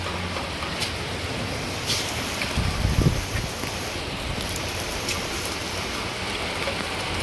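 Heavy rain pours steadily at a third-floor spot during a live match, a dense even wash of drops close by, with a brief louder patch midway and no talk.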